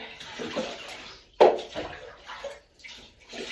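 Bathwater is scooped and poured over a cat in a tub, giving several close splashing rinses with sloshing between them and no talk.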